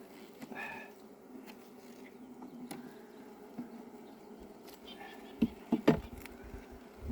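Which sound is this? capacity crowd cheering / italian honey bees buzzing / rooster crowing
italian honey bees buzzing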